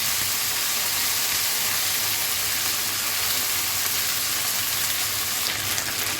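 Fish frying in a pan, a steady, loud sizzle and crackle of hot oil that runs unbroken from start to finish with no talking.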